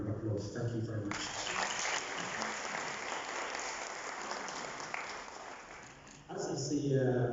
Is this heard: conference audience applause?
yes